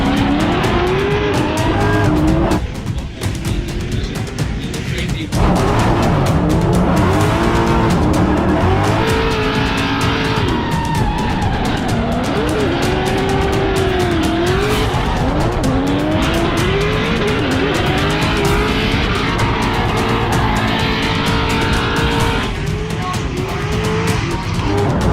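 A BMW E92 fitted with a 2JZ engine and its rival in a drift battle scream through long tire squeals and skids, with engines revving up and down hard, loud and close, and faint talk underneath.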